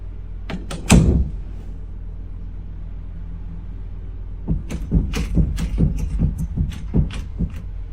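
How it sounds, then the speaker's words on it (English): A bedroom door rattling in its frame: a quick cluster of sharp knocks early on, a quiet pause, then a longer run of irregular rattles and bumps, close and fairly loud. "The bedroom door suddenly begins to rattle out of nowhere as if someone was there, but there's nobody."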